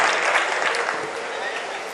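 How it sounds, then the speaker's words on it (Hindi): Audience clapping at a poetry and comedy stage show, a continuous roomy spread of applause from a large crowd that gradually eases in loudness, with a voice faintly mixed in. "यदि आपका भी मन है तो एक बार मुझे ताली बजा करके इजाजत दें"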